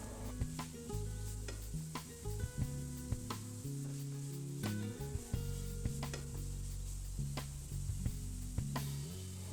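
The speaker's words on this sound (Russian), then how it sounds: "Выложите морковь и обжаривайте 3 минуты на среднем огне" Carrots fry in a pan over medium heat with a steady soft sizzle, punctuated by faint stirring scrapes and taps, with no one speaking.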